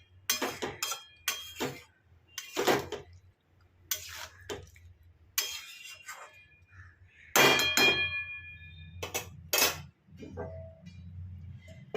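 Metal clanks and clinks from a cooking pot of pumpkin curry being covered with its lid, several sharp separate knocks and rattles at close range in a quiet kitchen, with a soft hum underneath.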